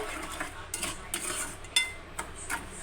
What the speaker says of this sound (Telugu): స్పూన్ పెట్టి కలుపుకుంటున్నారు మమ్మీ. ఇలా బాగా కలుపుకోవాలి.